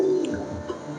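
Mukki breed pigeons coo softly and close by in a brief, low, murmuring call.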